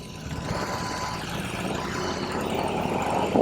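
A 2021 BMW R18 cruiser motorcycle engine rolls off idle, a steady low rumble with wind rush that swells slightly toward the end, heard up close while riding.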